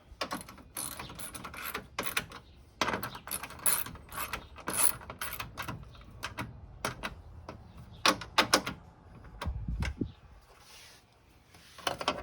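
A hand ratchet clicks in quick uneven bursts while bolts are tightened on the radiator fan of a 2006 Lexus RX400h, close and fairly quiet, with short pauses between strokes and no speech.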